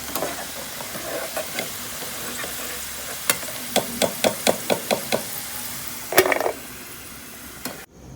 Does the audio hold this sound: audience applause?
no